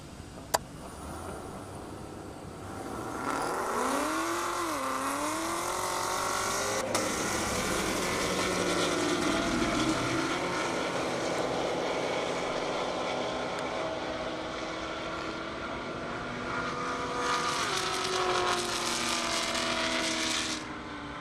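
A 2017 Chevy Camaro ZL1 and a 1,200-horsepower 2015 Nissan GTR launch down a half-mile airport drag strip, the engine roar climbing through gear changes then holding as a steady distant drone before fading slightly, with no talk.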